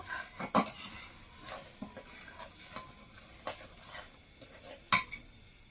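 A spoon stirs a sweet mixture in a pot while making gujiya, giving faint scraping and a few sharp clinks of metal against the pot, quiet and intermittent with no voices.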